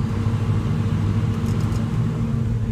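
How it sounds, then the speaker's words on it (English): A heavy Caterpillar 325C excavator engine revs up, droning loudly and steadily close by, a thick low rumble with no voices. "You can hear the engine go up."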